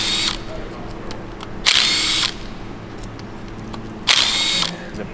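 Two loud bursts of a power tool undoing crankcase bolts on a BMW S1000RR engine, each about half a second, close by and separated by quieter workshop noise.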